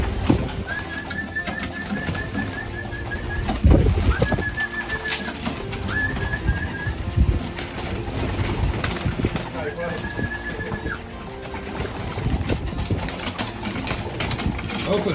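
Pigeons in a loft coo in soft repeated rolling calls, with occasional wing flaps and shuffling nearby, while people talk over the birds throughout.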